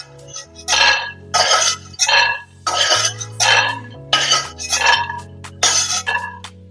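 Roasted peanuts are transferred onto a plate in a series of loud, clattering pours and scrapes that come in repeated bursts, with a low hum underneath and no voices.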